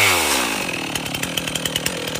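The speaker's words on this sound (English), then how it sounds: "There is chainsaw work. Mopping up." A chainsaw cuts wood during wildfire mop-up work near an erupting volcano, its engine revving up loud and close before settling into a steady rhythmic chug of repeated strokes.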